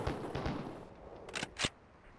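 Police officers fire buckshot from shotguns at targets on a range, sounding as a few sharp, moderately distant blasts with short gaps between them, fairly faint against the background.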